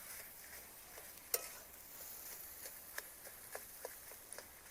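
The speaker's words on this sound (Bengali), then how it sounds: "পেঁয়াজের সঙ্গে আলুটাকে ভালোভাবে নেড়ে নিতে হবে।" Potato and onion stirred and frying in a pan on low heat, a faint steady sizzle broken by soft scraping strokes and a few light clicks of the spoon.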